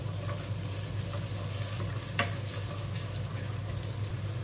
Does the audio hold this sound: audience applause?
no